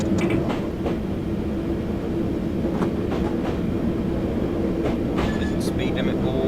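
District line train in a train simulator game, rolling along with a steady rumble and faint rhythmic clicks from the rails; someone talks over it.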